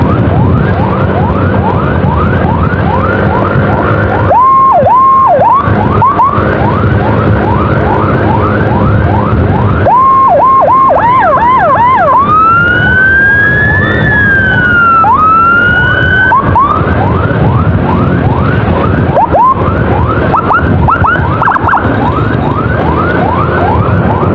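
A Puskesmas ambulance siren wails continuously while driving, loud and close, cycling through rapid yelp sweeps and slower rising-falling tones over road and engine noise, with no talk.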